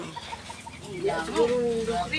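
A chicken clucks and makes a drawn-out squawk near the end, close by, over faint background murmuring.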